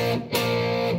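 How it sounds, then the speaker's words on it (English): Heavily overdriven electric guitar chords, gritty and saturated, with a brief break before a second chord rings out loud and sustained. "This is a lot of overdrive."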